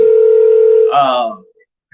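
A loud, steady telephone dial tone holds for about a second before a voice cuts in briefly, then silence.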